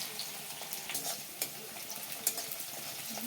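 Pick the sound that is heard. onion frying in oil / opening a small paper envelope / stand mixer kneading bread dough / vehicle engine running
onion frying in oil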